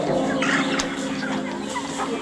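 Chickens on a poultry farm during the rainy season cluck and chatter nearby, several overlapping calls and short squawks above a steady background din.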